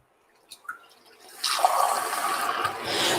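Cold water runs steadily from a tap into a glass in a home kitchen, a constant close rushing pour that starts abruptly after a few faint clicks and continues to the end.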